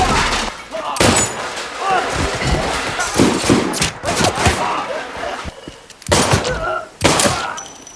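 Several loud gunshots in an action film crack out irregularly amid a busy, chaotic scene with thuds and shouting voices between the blasts.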